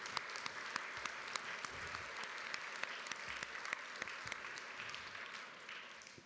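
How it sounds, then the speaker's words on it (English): A school audience at a Thanksgiving program claps for fourth graders, fairly quiet but steady applause with distinct individual claps popping out, fading slightly at the end. "So let's give them another round of applause."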